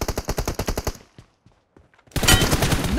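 Automatic weapon fire in PUBG Mobile: a rapid burst of evenly spaced shots for about a second, a near-silent pause with faint sounds, then a loud, dense stretch of sustained gunfire.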